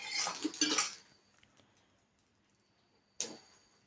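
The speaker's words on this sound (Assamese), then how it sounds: "ডাঙৰকৈ অমলেট এটা বনাই তাক 3 ভাগ কৰি কাটি পেলালোঁ।" An egg omelette is cut into three pieces in a pan, giving faint scraping and clinking of a utensil for about a second. Near silence follows, then one sharp tap.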